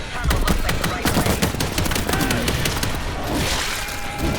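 Rapid bursts of gunfire in the zombie shooter World War Z, loud and continuous, with sharp repeated shots over a dense, noisy background.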